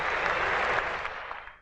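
A cricket crowd at Gwalior applauds a well-struck on drive by Tendulkar during a test match, a dense, steady wash of clapping that fades slightly toward the end.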